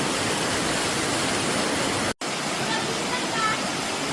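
Tigis Falls in Bohol pours straight into the sea, giving a steady, loud broadband rush of falling water that fills the whole stretch, broken only by a split-second gap partway through.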